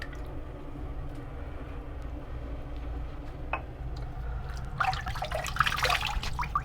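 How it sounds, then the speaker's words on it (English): Water drips and trickles from a running tap during a cold water shave, a steady low wash with brief splashes and a louder burst of spattering near the end. "This is also a cold water shave."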